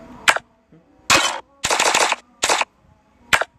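Bursts of gunfire from the video game Free Fire: five separate loud volleys, some single sharp shots and some longer rapid automatic strings, with near silence between them.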